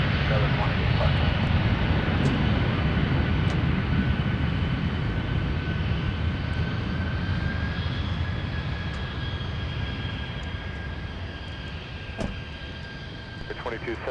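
A United airliner landing on the South Parallel runway at Minneapolis–St. Paul airport makes a continuous engine rumble and whine that slowly fades, with faint radio chatter and a few sharp clicks over the top.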